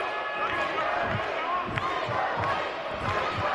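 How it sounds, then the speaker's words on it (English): Wrestling fans in an arena at the Equine Center roar and chant in steady rhythmic pulses, a dense crowd noise heard from a distance with a sharp slam partway through. "And you can hear the fans getting behind Joe Hendry."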